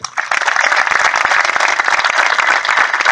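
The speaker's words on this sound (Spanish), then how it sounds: "Un fuerte aplauso." Strong applause from a crowd at an outdoor Malvinas vigil in La Leonesa, Chaco, with dense, sustained clapping that holds at a loud, even level throughout.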